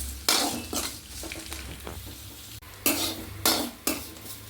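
Thal curry sizzles in a pan while a metal spoon scrapes and stirs it, producing repeated clinking strokes over a steady frying hiss, close and fairly loud with no talking.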